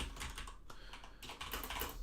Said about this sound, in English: I shouldn't keep typing yes to all that.